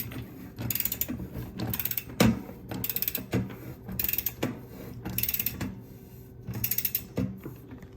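Wrench tightening a SRAM XD driver freehub body onto a bicycle hub, rapid ratcheting clicks in repeated bursts of several strokes each, close and clear with short pauses between pulls.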